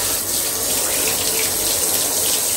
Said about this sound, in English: Turn on the shower.